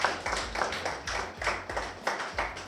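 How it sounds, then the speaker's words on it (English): Scattered clapping from an audience, sparse and uneven with rhythmic pulses across a short span, moderately loud in a room. "Let us give her a round of applause."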